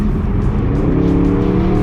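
An Aston Martin Vantage Roadster accelerates hard, its engine a loud, steady roar that holds for a couple of seconds with no voices over it.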